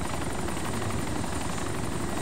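A helicopter in the video game DayZ gives a steady, loud whirring rotor drone that fills the whole stretch without a break, with no talking over it.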